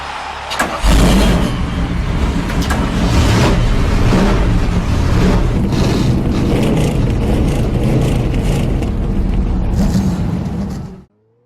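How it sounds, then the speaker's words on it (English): Race car engines fire up and rev together at a Michigan oval race, a loud, continuous roar of many motors that builds and holds for about ten seconds before cutting off abruptly. "Gentlemen, start your engines!"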